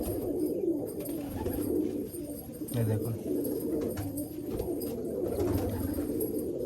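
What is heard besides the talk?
male Malwai pigeon cooing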